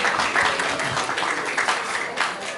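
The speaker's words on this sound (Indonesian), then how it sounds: "Sampai hari ini mungkin kita bisa tepuk tangan buat film nasional dulu ya." An audience applauds a national film at an Indonesian National Film Day event, with steady dense clapping throughout, loud and close, peaking in a few swells.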